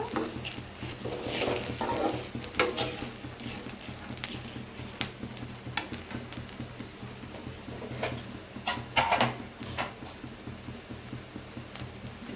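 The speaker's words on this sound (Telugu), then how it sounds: "బాగా ఫ్రై కావాలి. కొంచెం ఆయిల్ వేసాక" Food frying in a little oil in a pan, crackling and sizzling softly while being stirred, with scraping and occasional louder spatters, fairly quiet and close with no talk.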